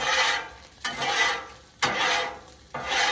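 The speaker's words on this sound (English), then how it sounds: "So we just scrape it down. Simple spatula." A simple spatula scraped across a flat griddle after cooking plain hamburgers, with four loud, rasping strokes in a steady back-and-forth rhythm and brief pauses between them.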